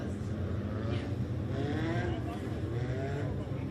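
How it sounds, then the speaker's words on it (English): A Legends race car with a flat front left tire rolls to a stop on the front straightaway at 141 Speedway, its engine droning loud and steady as it slows, under a track announcer's voice. "That's Cam Panitsky pulling to a stop here on the front straightaway."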